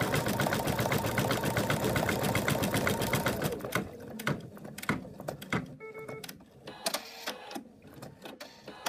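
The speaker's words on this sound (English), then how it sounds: "Right, we're just gonna stitch the leg down now." A sewing machine stitches down a teddy bear's leg, running in a fast continuous mechanical patter for several seconds, then breaking into short stop-start bursts with clicks between them.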